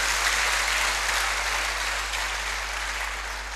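Church congregation at Remera parish applauding, a dense, even wash of many hands clapping that holds steady for several seconds and fades slightly toward the end, with a low electrical hum underneath.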